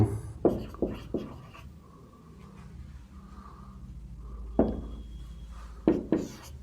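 Hand-written notes for a physics lesson on force and equilibrium: short scratchy pen strokes in quick bursts at the start and again near the end, with a quieter stretch of faint rustling between.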